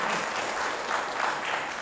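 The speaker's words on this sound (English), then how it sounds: "Well, Louise, a nice round of applause there." A short burst of steady applause from a church room full of people, clapping loud and continuous throughout.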